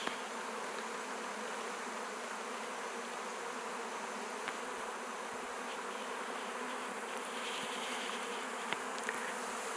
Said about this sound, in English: I'm gonna try to pick up all these bees by hand wearing gloves